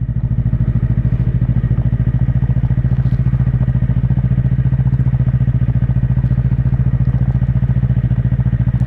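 A Yamaha YZF-R3 motorcycle rides at low speed near a park, its engine giving a close, loud, steady low throb with an even pulsing beat and no talk.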